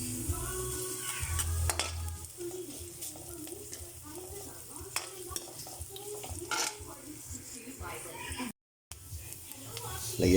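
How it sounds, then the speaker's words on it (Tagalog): Sautéing in a pan to start chicken tinola, with a steady sizzle and frying crackle under occasional stirring and utensil clinks against the pan, while a person talks over it nearby. "At nagigisa na rin po tayo para sa ating tinola."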